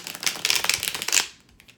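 Tarot deck given a quick shuffle, producing a rapid run of crisp, close card flicks and riffles for over a second before trailing off into a few soft taps.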